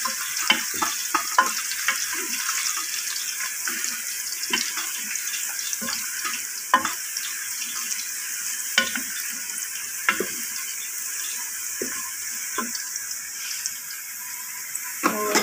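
Onions browning in a pan for a rice dish, giving a steady crackling sizzle with repeated stirring clicks and scrapes throughout, close and alone with no talk.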